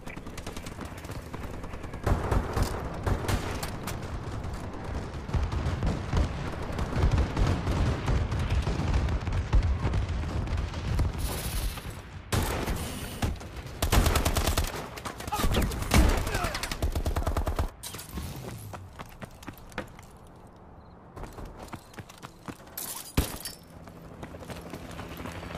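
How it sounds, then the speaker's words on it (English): Bombing run in a first-person shooter video game: dense, loud bursts of rapid machine-gun fire and booming explosions roll on almost continuously, with brief gaps and a quieter stretch toward the end. "Friendly bombing run clearing the way."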